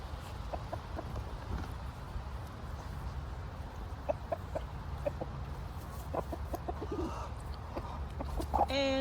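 Chickens cluck on and off in soft, scattered bursts over a steady outdoor background, with no voices.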